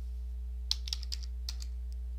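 Keyboard keys tapped at a computer while searching for T-slot extrusion parts: a short burst of light clicks, several quick taps then a couple more, close and fairly quiet over a steady low hum.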